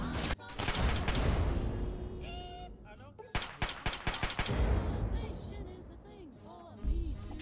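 Weapon fire in a modded Fallout 3 game, a cluster of sharp rapid shots amid dense game noise and effects, moderately loud with a voice speaking around it.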